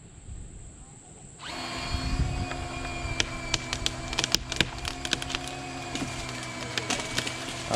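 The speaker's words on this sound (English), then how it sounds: "Okay, Felicia, go ahead and drill." A power drill bores into the trunk of a massive tree being cut down, its steady whine starting abruptly and running loud and continuous, with sharp crackles and snaps of wood splintering throughout.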